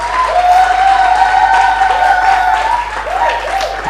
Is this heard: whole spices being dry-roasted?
no